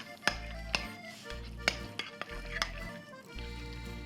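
A spoon works through tzatziki with olive oil and red wine vinegar in a bowl, clinking against the side in a few sharp, regular taps over soft stirring, close and quiet.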